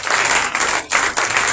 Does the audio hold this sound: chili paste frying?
no